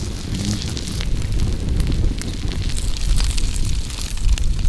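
A campfire burns steadily outdoors in a snowy forest, built up to make embers for cooking lamb, giving a continuous close rumble with scattered crackles and soft pops and no talk.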